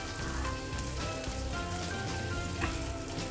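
Browned onions and tomato puree sizzle steadily in a hot pan for chicken barra, a continuous close crackling fry with small pops and no talking.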